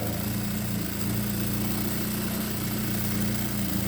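Electric sewing machine running a long stitch through window mosquito netting: a steady, close motor whir with a constant hum that holds throughout, with no talking.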